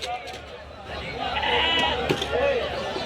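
At the Ranebennur sheep market, lambs give short wavering bleats, close and moderately loud, while people talk and chatter nearby.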